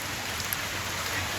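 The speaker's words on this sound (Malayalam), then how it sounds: "മഴയൊക്കെ ചതിച്ചു ഗൈസ്." Rain falling steadily during a family trip, a soft even patter heard alone with no talk over it.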